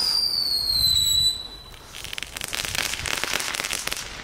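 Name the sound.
Knetter King firecrackers crackling and banging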